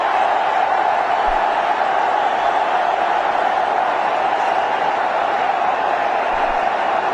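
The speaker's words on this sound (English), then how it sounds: "The crowd is really enjoying." A packed cricket stadium crowd during a one-day international between India and Sri Lanka roars in a steady, dense wall of cheering that holds at a loud, even level throughout.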